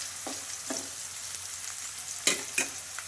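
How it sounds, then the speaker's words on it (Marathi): Sautéing in a pan after green chilli is added, a soft steady sizzle broken by a few light stirring scrapes and clicks, close by. "याला थोडं परतून घेऊया। यात हिरवी मिरची पण टाकून घ्यायची।"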